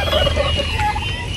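Turkeys gobble loudly and close by at feeding time, a quick burst of warbling gobbles over a low background rumble.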